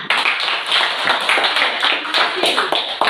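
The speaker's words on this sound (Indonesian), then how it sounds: "Tepuk tangan" Dense, steady clapping from a group of students in a classroom fills the clip, continuous and fairly loud with slight swells, no pauses throughout.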